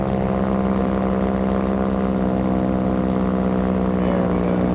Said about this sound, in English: if you don't want to hear the rear motor going, you just flip your balance to one channel